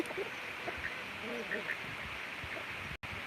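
A few short duck quacks at a small South Dakota minifarm, where ducks and a turkey are being fed, come in scattered bursts over steady outdoor background noise with a brief dropout near the end.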